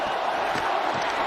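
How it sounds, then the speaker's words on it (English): Packers fans roar in a dense stadium crowd at Mercedes-Benz during a football video game, a steady continuous wash of cheering and shouting with faint swells and no clear pauses. "You can hear the Packers fans in the crowd here at Mercedes-Benz."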